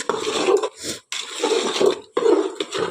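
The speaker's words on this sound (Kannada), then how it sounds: "ನಾನು ಕಣ್ಣ ಅಂದಾಜಿಗೆ ನೀರು ಹಾಕೋದು" Water poured into rice in a pot for a dill leaf pulao, a splashing pour in bursts with brief pauses, close and fairly loud with no talking.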